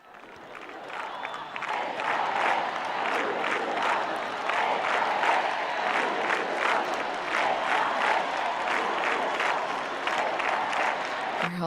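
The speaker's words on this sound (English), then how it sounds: "Holy Father, acknowledging the applause." Students at the Universidade Católica Portuguesa applaud the Holy Father with sustained, rhythmic clapping that swells after a quiet start and holds steady, with crowd voices and cheers mixed in.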